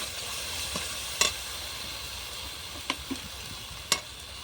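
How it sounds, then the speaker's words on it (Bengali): Ground coriander and spices frying on a clay stove give a steady low sizzle, broken by a few sharp stirring scrapes near the end. "দিলাম ভাজা ধনে গুঁড়ো মশলাগুলো একটু কষিয়ে নেব"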